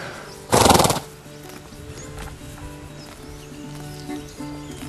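A Crioulo stallion lets out one loud, close whinny lasting about half a second, then quieter rustling and farm background follow.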